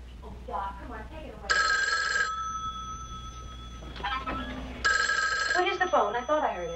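An old telephone bell rings in two long bursts, each around a second long, loud and close, with a pause between them; people talk quietly before and after the rings.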